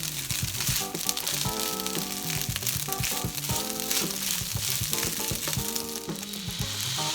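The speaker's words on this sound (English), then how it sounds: "Break the clumps up and stir fry for about 5 minutes or until you see some rice pieces jumping and dancing on the pan" Rice stir-fried in a wok with spatulas for a fluffy restaurant-style egg fried rice, a steady loud sizzle with repeated scraping and stirring strokes and faint metallic clinks, with no voices.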